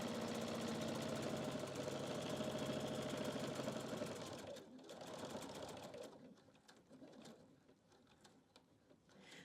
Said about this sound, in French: je tourne et je vais coudre sur mon fil